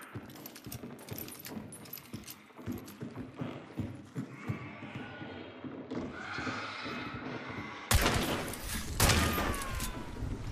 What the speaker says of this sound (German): Hier schießt einer durch das Unterholz